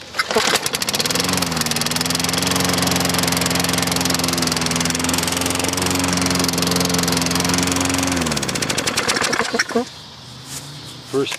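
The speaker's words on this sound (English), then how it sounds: "Let's go ahead and start this up." Lawn-Boy Silver Series self-propelled lawn mower with a 5HP 4-cycle engine starts and runs at a steady close, loud drone for about seven seconds, then cuts off, leaving quiet rustling.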